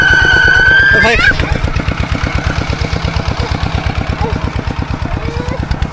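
A walking tractor engine putters near and loud in a fast, even chug that drops slightly in pitch and keeps running, with voices heard over it.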